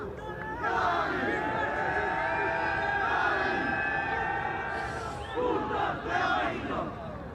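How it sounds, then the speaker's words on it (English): Mexican fans chanting in unison at an ultimate frisbee match in Italy, a sustained crowd chant carried across the field with sharp claps and shouts following toward the end. "Good chant there by the Mexicans, and a clap to follow."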